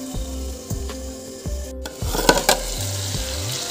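Dried meat frying in a pan, stirred with a spatula: a close, loud sizzle with rhythmic scraping strokes and a low hum underneath, a few sharper clatters in the middle.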